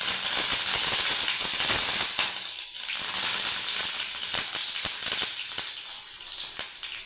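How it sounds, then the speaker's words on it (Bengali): Curry leaves tossed into hot oil with whole mustard seeds give a steady close hiss of sizzling, dotted with sharp pops and crackles that thin out slightly toward the end. "কারি পাতা আমি দিয়ে দিচ্ছি বন্ধুরা।"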